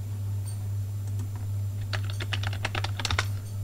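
Keystrokes on a computer keyboard while searching for the Android SDK on an Ubuntu 16.04 computer, a loose burst of quick clicky taps over a steady low electrical hum, close and fairly quiet.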